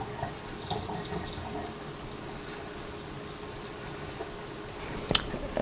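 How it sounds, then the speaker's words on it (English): Soaking water is poured off and drained from a container of bean sprouts, a continuous soft splashing and trickling close by with a few brief drips and clunks near the end. "So I'm going to pour this water out"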